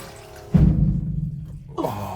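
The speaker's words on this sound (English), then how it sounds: "I'm just going to turn these taps on to give them a run through" Water gushes from taps on a sailboat with a sudden rush, flowing steadily, then a second surge of running water starts near the end.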